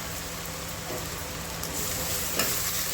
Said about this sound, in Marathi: हे बघा असा कांदा छानपैकी लाल होईपर्यंत भाजून घ्यायचा.